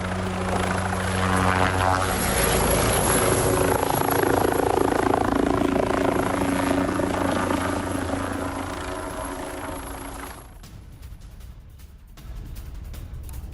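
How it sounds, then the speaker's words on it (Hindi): A Russian Mi-34 helicopter in flight during a test, its steady rotor thrum and turbine whine loud and continuous, then thinning and dropping away toward the end. "ये पहले Mi-34 हेलीकॉप्टर का टेस्ट किया और उसकी तस्वीरें भी सामने आई हैं"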